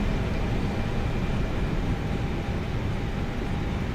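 Low steady rumble of an Aer Lingus A320neo's landing roll just after touchdown in Microsoft Flight Simulator 2024, a continuous dense roar with faint tonal hums, holding at an even level throughout with no voices.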